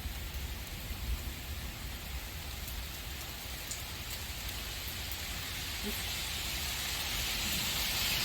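Steady rain pours down in a continuous broadband hiss, with no talk, slightly louder toward the end.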